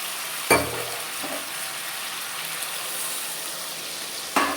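Rohu fish curry frying in a pan gives a steady, loud sizzle throughout, with two sharp bursts where water hits the hot oil and briefly intensifies the crackle.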